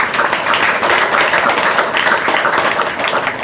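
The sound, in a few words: applause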